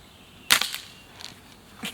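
A slingshot shot outdoors striking an old tin can used as a target: a sharp snap followed by a quick clattering rattle, then a couple of faint smaller knocks, with no talking.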